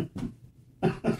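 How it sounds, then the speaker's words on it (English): A man's smoker's cough, two short rough hacking bursts close up, with a brief pause between them. "Excuse me, smoker's cough."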